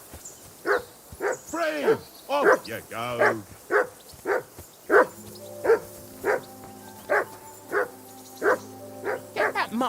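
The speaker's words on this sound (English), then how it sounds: "Whistle at that mutt of yours to stop barking!" A dog in the video game Kingdom Come Deliverance barks repeatedly in a steady rhythm of sharp, close barks, with a game character's voice talking over part of it.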